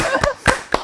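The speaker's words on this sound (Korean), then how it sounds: "이 시점에서 박수를 한번 쳐야 되지 않을까요?" Three sharp, evenly spaced hand claps sound close and loud at a talk session about orchestral conductors. Short silences separate the claps.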